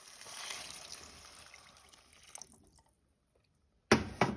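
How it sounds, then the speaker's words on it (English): Water is poured from a cup into a cooking pot of butter beans in a tomato and spice base, a soft trickling splash that fades to silence, then a brief louder splash near the end. "I'm adding 1 cup of water"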